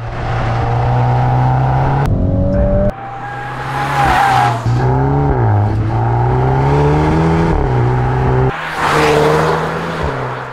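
The 2022 VW Golf R's turbocharged four-cylinder engine revs hard and close, pitch climbing through several gears with abrupt shift breaks and a brief lift-off, a loud continuous drive lasting about ten seconds.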